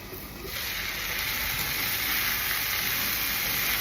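Sliced onion dropped into a pan of cooking potatoes, a steady loud sizzle that rises suddenly and then holds as an even hiss.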